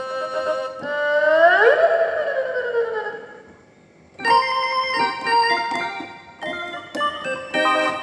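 An SV800 keyboard patch imitating a bowed Thai fiddle plays a sliding, wavering melody, pauses briefly, then continues with a run of shorter notes.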